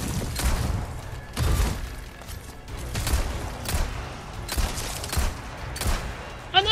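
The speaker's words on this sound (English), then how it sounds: "I am literally shooting at the real one!" Gunfire in Resident Evil 4 Remake cracks out in repeated sharp shots spaced about a second apart, loud and close, with heavy thuds between some of them.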